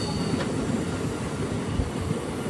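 Rajya Rani Express rounding a big curve on the approach to Kollam railway station, a steady loud rumble of the wheels on the track with a faint metallic squeal, heard from on board.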